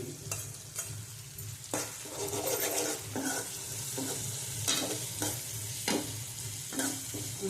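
Grated ginger being stirred into softened, cooking tomatoes for a Gujarati potato curry, with a steady sizzle and repeated spoon scrapes against the pan, close and moderately loud.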